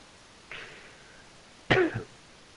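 A person coughs close to the microphone: a faint throaty rasp, then one loud sharp cough with a short follow-up, and no talk over it.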